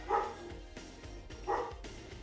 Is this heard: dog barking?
yes